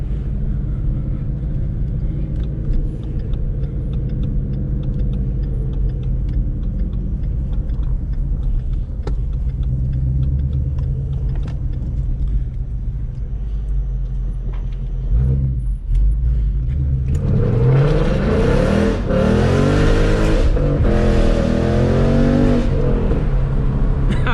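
A 2016 Ford Mustang GT PP1 engine rumbles steadily on a night drive, then revs up hard and loud in a rising, sustained roar during the final seconds.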